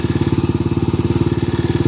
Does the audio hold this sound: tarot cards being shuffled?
no